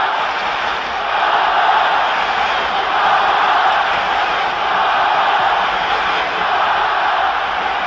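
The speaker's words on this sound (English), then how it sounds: "This huge crowd now getting behind Barcelona" A huge football stadium crowd roars continuously behind Barcelona at a 1975 European Cup semi-final against Leeds United, a loud, dense, distant-sounding wash of cheering without break.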